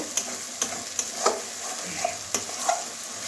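Spices and yogurt-marinated chicken for coriander chicken sizzle in a pan, with a spatula scraping and tapping in a regular rhythm of sharp knocks over a constant hiss, heard close up and without talk.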